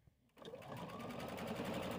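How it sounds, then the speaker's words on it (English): A sewing machine starts up after a brief quiet moment and runs at a steady rapid stitch, attaching loop Velcro to a fabric tab, close and moderately loud. "we're going to stitch this in place"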